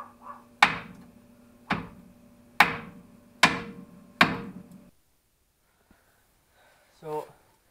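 Five heavy hammer strikes on a stuck lower ball joint of a Camaro land at a steady pace, each ringing briefly, followed by quiet and a short breathy sound.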